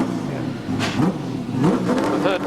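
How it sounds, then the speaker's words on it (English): A Holden Commodore race car, the Re-Car entry in the pits at Bathurst in 1982, revs its engine in short bursts that rise and fall, close and fairly loud over crowd and pit-lane noise. "we have the pit stop for the second of the Recar Commodores, the Ron Wanless, Gary Rogers entry."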